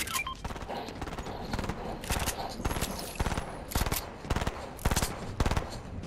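Rapid gunfire in Fortnite, a steady run of loud, sharp shots that keeps going through the whole stretch, with the strikes falling in quick clusters and game noise underneath.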